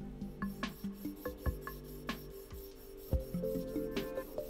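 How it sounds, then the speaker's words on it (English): The edge of a metal quench probe is ground against an abrasive surface, a steady series of close rasping strokes about twice a second, with faint ringing tones underneath. "Then turn the probe the last third and grind again."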